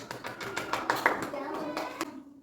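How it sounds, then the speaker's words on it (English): Children in a classroom clap for a classmate, a short burst of quick, uneven hand claps with a voice mixed in, fading out after about two seconds. "Clap for Ritesh."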